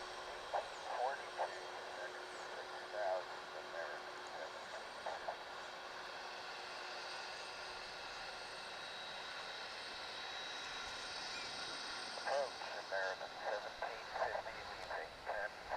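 An airliner taxiing at DFW airport makes a hard left turn, giving a faint, distant steady engine whine with a high tone.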